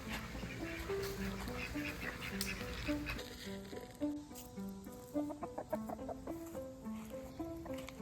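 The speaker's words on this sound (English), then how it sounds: "One of my oldest chickens" Backyard chickens inside a fenced run taking dust baths, clucking and murmuring in short repeated calls at moderate distance, with a soft rustling bed underneath and no talking.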